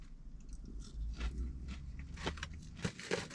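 Close, crunchy chewing of thin fried calamari from a take-away seafood basket, with several irregular bites and crackles.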